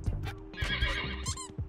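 A horse in the video game Wobbly Life gives a loud, shaky whinny lasting under two seconds, heard alone without talk.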